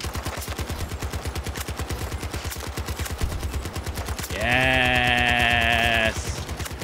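Rapid rhythmic M60 machine gun fire from Battlefield 2042, a steady clattering burst running throughout and loud up close, with a sustained tonal in-game alert sound overlapping briefly near the end.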